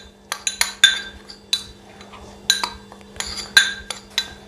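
A metal spoon clinks and scrapes against a bowl as ground spices, including carajwain (ajwain), are stirred together for a Sindhi-style steamed fish, in irregular bursts of sharp taps, close and clear.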